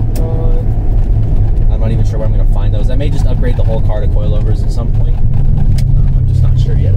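Turbocharged engine of a 1993 Suzuki Cappuccino droning steadily from inside the moving car, a loud low rumble throughout, with a person talking over it.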